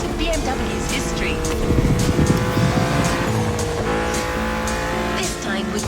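A BMW Z car in The Crew Motorfest racing game drones with a loud, steady engine tone and shifting revs alongside game music, with someone talking over it throughout.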